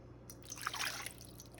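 Warm water trickling and dripping into a large mixing bowl for pita dough, a brief soft pour that swells near the middle and then tapers off, quiet and without talk.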